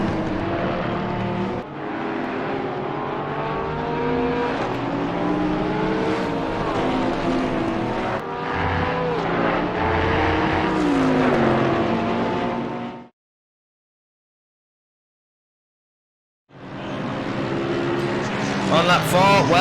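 Race cars lapping Spa-Francorchamps in Assetto Corsa Competizione, a Bentley and a Porsche among them, with loud sustained engine drone and shifting pitch under continuous commentary, then a brief silence before the engines return.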